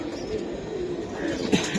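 Pigeons cooing at an indoor pigeon market during rain, a steady low murmur of several birds close by with a brief louder call near the end and no talk.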